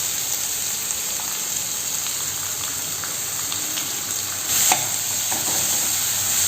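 Finely chopped onions sautéing in a pan for egg gravy, a steady close sizzle and crackle with occasional stirring scrapes, no talking.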